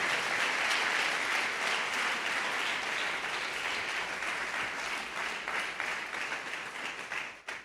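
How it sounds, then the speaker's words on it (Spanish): Church congregation applauding steadily during a Spanish-language sermon, a dense sustained wash of clapping that fades toward the end. "dele palmas a Cristo, amado hermano"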